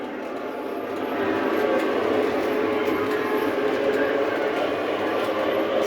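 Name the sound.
model trains running on Halloween layout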